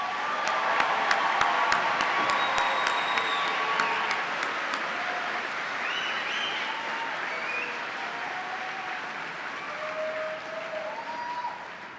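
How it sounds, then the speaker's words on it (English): A large commencement crowd gives graduates a final round of applause, a dense wash of many hands clapping that holds steady throughout, with faint crowd murmur and a few higher tones threaded through it. "let's give our graduates one final round of applause"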